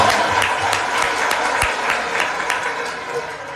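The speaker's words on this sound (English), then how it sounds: "Let's give the DOJ a round of applause." An audience claps steadily throughout, a dense, fairly loud wash of applause with a crowd feel that tapers slightly toward the end.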